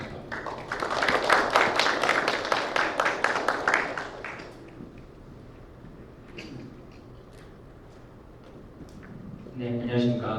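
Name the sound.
applause welcoming a seminar speaker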